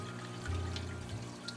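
Water trickling and pouring from an auto top off reservoir behind a wall in a JBJ aquarium system, a steady low running flow with a faint hum underneath, close and continuous.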